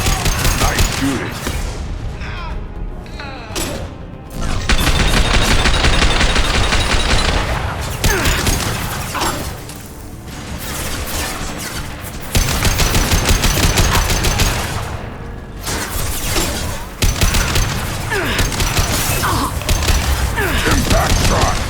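Sustained automatic gunfire and heavy weapon bursts in the video game Mass Effect 2 Legendary Edition, loud dense volleys with brief pauses, clanking mechanisms and occasional booms layered over game combat noise.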